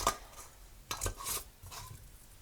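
Metal lids and screw rings being set onto glass canning jars of hominy, producing a few light clinks and scrapes, close and quiet with small gaps between them.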